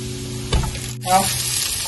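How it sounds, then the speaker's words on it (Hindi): Garlic frying in a pan for reshmi kababs, a loud close sizzle with a sharp clatter midway, a brief drop-out, then the frying surges again as more goes into the hot oil. "थोड़े से लहसुन जो है वो फ्राई होना शुरू हो गए"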